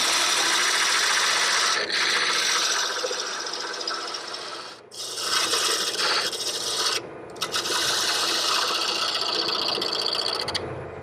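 Wood lathe tool cutting a tenon on a hollow-turned piece, a loud continuous rasping scrape that runs steadily with brief pauses where the tool lifts off the spinning wood.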